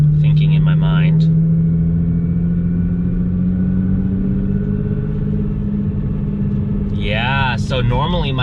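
A car, fitted with a Stage 1 Cobb tune, drives along holding third gear where it would normally have shifted to fifth, giving a steady sustained engine drone. Brief bursts of speech sit at the start and near the end.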